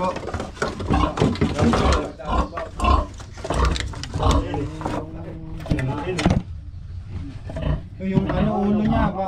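A pig on a farm in Bicol squeals and grunts in repeated loud bursts close by, while people talk around it.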